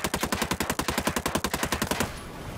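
Rapid automatic gunfire in Ghost Recon Breakpoint rattles off about twenty evenly spaced shots in a steady, loud stream aimed at antennas, then stops and leaves a faint hiss.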